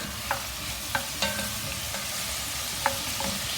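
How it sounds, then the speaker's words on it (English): Onions fry with a steady, soft sizzle in a pot while a utensil stirs them, scraping against the pot in a few sharp, irregular clicks. "now I can see the onions are almost cooked"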